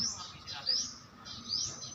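Birds chirp in quick high tweets, a few short calls repeating over a soft outdoor background.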